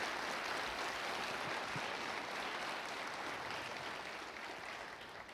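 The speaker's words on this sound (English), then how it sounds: "let's give the family a round of applause to show them our support." A high school crowd gathered for a wrestling invitational applauds in support of a family, a broad, even roar of clapping from a large gathering, fairly distant and fading slightly toward the end.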